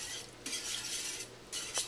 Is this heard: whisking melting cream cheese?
yes